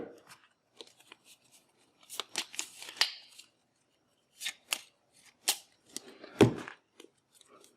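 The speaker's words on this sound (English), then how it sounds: "Just shuffle that up a little bit." Cards for the board game Set a Watch are shuffled in short, quiet riffles and snaps, coming in scattered bursts with brief pauses between, close by.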